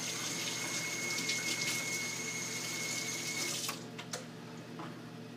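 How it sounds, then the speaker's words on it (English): Hands being washed under a running tap before baking chocolate chip cookies: a steady, close rush of water that cuts off near the end, leaving a few drips and light splashes. "So I'm just going to start off by washing my hands as always."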